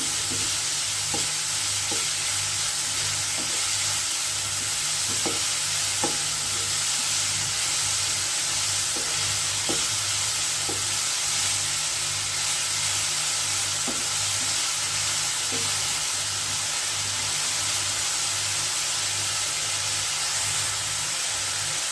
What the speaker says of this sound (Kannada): ಅಲ್ಲಿವರೆಗೆ ಚೆನ್ನಾಗಿ ಹುರಿಬೇಕು